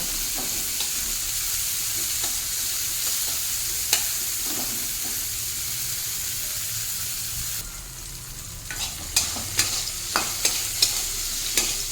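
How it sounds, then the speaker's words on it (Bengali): Bitter gourd pieces fry in a wok over a low flame, a steady close sizzle throughout with several sharp clacks of stirring near the end. "এবার ফ্লেমটাকে লোতে করে দেবো, আর উচ্ছেগুলো কড়ার মধ্যে বিছিয়ে দেবো"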